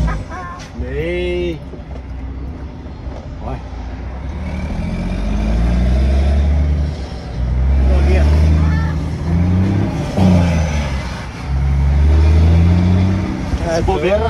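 Volvo FH truck engine rumbling low and surging in repeated revs, rising and falling in loudness close by, with people talking over it.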